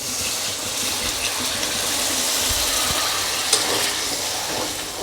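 Water poured into a hot pan of fried spice paste while making a spicy sardine fish gravy, giving a loud, steady hiss and sizzle with a gurgling, running-water quality, close and continuous.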